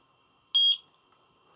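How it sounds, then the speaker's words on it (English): A eufy HomeBase for an S220 SoloCam security camera gives a single short, clear electronic beep after its sync button is pressed, in an otherwise quiet room. "push that for 2 seconds and wait till I hear a beep"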